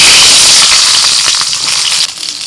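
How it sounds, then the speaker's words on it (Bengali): Eggplant sizzles loudly and steadily in hot oil, the oil still holding the flavour of the fish fried in it, with a faint stir or clink near the end; no speech. "ওই তেলের মধ্যে বেগুন ভেজে নেব"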